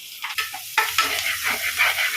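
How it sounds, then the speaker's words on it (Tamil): Curry leaves drop into hot tempering oil with onions for a wedding-style Bisi Bele Bath, bursting into a loud, crackling sizzle that settles into steady frying with light stirring and no talk. "கருவேப்பிலை கொஞ்சம் போட்டுக்கிறேன் தாளிப்புக்கு."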